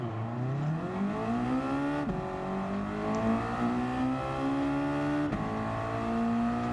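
Race cars in the video game Gran Turismo 7 accelerating off the start of an online race, a loud, close engine whine rising in pitch through three distinct gear shifts, with no talking.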